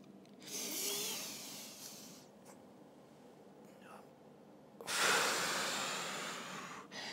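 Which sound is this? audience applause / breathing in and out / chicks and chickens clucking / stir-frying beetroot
breathing in and out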